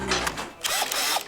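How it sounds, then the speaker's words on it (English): A power drill whirs in short loud bursts, revving up and down in a couple of pulses, close by with no talking. "We've got Robin seeing a drill for the first time"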